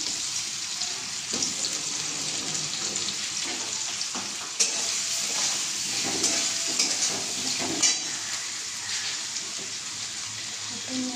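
Potatoes frying in a pan give a steady, close sizzle that crackles continuously, with occasional clinks and scrapes of stirring through it and no voices.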